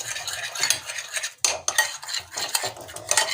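A spoon scrapes and clinks against a bowl in quick, irregular strokes as a thick cauliflower mixture with chopped coriander and parsley is stirred, close and fairly loud.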